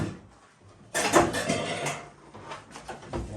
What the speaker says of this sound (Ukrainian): Зараз візьму каструлю.